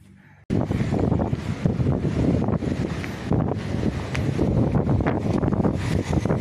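Strong wind buffets the microphone with a loud, continuous roar that gusts and surges, starting abruptly after a brief quiet moment.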